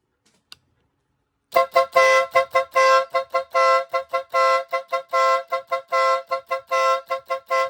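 An electric horn from an NHAY PRO MUSIC unit blares a rapid pattern of short, loud, tonal honks in quick succession after a moment of silence, with no talking.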